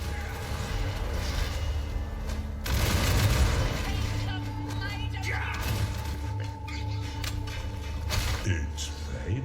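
Loud, dense explosions and crackling gunfire-like bursts from a bombardment attack in the video game WftO roll on continuously, with heavy booms and layered mechanical clatter.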